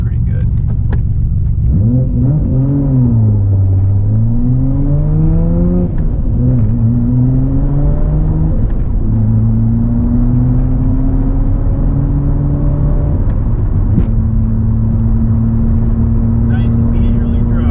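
A Nissan R32 GTR fitted with HKS parts drives along, its engine droning loud and close inside the cabin, pitch rising and dropping through gear changes before settling into a steady cruise.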